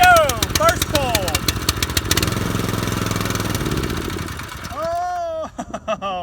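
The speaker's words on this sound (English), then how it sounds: "Let's see if she fires. Bingo! First pull!" A small Harbor Freight trash pump engine catches on the first pull while on choke, a steady close chugging run that shifts and sags near the end, with talking over it.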